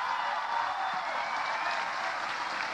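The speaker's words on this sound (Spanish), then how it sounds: "Un aplauso para ellos." Steady crowd applause at a Chilean presidential campaign closing rally, a continuous wash of many hands clapping, fairly distant and even throughout.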